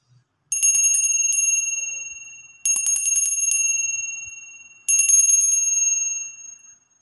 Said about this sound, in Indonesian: kita akan memulai dengan tanda lonceng berbunyi